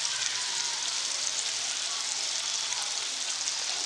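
Chicken liver coated in masala frying in a pan over medium flame, giving a steady, close, broadband sizzle that holds evenly throughout with no talking.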